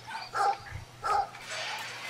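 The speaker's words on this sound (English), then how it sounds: "Now we can unleash the dog." A dog in the video game Brothers: A Tale of Two Sons gives two distinct barks roughly a second apart, moderately close, followed by a softer whine.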